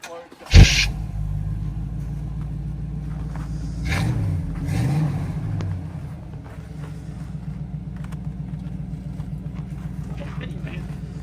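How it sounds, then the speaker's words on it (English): A pickup truck engine with Flowmaster dual exhaust cranks, catches and settles into a deep, rumbling idle, revving once before dropping back to a steady throaty burble, with people talking nearby. "I put new Flowmaster exhaust, dual exhaust. Let's crank it up."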